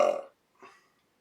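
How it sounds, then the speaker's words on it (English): A single deep burp, loud and close, followed after a short pause by a softer, brief second belch. "I'm trying to burp talk and it ain't working that good."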